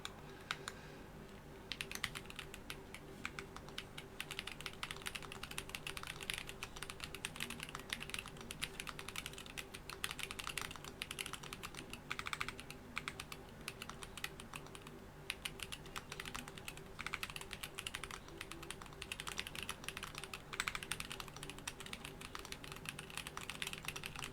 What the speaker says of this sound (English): 71 words per minute. I mean, that's the standard typing test.